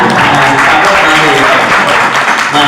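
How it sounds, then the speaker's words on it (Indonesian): Loud, full applause from a crowd at a Maulid celebration of a mosque's children's Quran class, clapping for a young boy, sustained and dense with voices mixed in beneath it. "Tepuk tangan buat Hanan."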